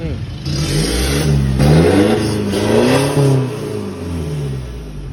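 A 2021 Isuzu D-Max X-Series pickup engine revs up and down in repeated surges, the deep rumbling rising and falling close by, with some talking mixed in.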